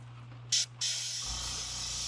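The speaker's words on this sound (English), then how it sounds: "Mainly spraying on the comb itself." An airbrush hisses paint through a comb onto a Strike King crankbait, with a short burst, a brief pause, then a longer steady spray that carries on alongside a faint low mechanical hum.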